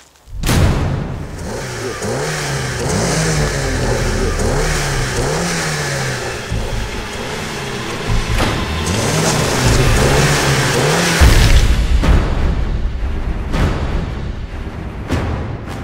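A car engine starts and revs up and down in repeated surges, loud and close, then the pitch drops and it settles before ending with a few knocks.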